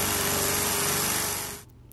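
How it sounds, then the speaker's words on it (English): A heavy-duty drill bores into concrete for a wedge anchor, a loud, harsh, continuous grinding whine lasting over a second and a half before cutting off abruptly. "We're going to start drilling. And you can see this is a heavy duty drill"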